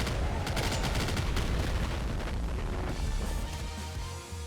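Dense, continuous gunfire from the video game Nuclear Throne, rapid overlapping shots and booms forming a loud unbroken barrage throughout.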